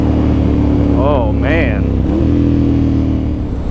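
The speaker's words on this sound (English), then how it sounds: "this engine though, you can tell it has so much power, and it's instant." Engine of a 2009 Ducati Monster 1100 motorcycle runs loud and steady throughout, with a voice speaking over it briefly near the start.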